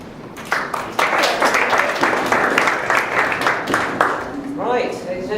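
A debate audience applauds both teams, a dense, steady wash of clapping from a full room that starts abruptly and carries on for several seconds before a voice begins speaking at the end.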